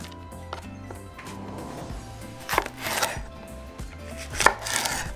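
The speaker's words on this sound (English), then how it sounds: "we're going to start by chopping our jalapeño" A knife chops a jalapeño on a cutting board for pico de gallo, giving several sharp, close taps in an uneven rhythm over a low background drone, with no talking.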